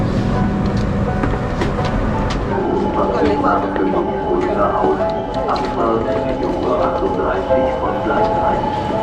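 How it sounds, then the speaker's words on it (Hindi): Loud, busy ambience of the train station at Berlin airport, with continuous rumbling and clattering rail noise, scattered clacks and thuds, and voices in the background throughout. "ये है बर्लिन एयरपोर्ट का स्टेशन, ट्रेन स्टेशन।"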